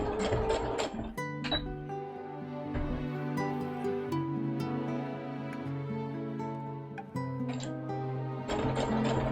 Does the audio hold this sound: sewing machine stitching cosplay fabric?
yes